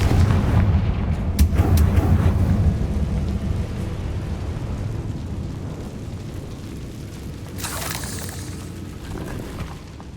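Confringo fire spell explosions in the video game Hogwarts Legacy, a loud, continuous rumbling roar with crackling bursts that slowly fades, and a brief whooshing flare near the end.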